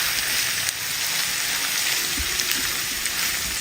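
Sliced onions with salt sauté in a pan over a medium flame, giving a steady, close, bright sizzle with occasional soft pops throughout.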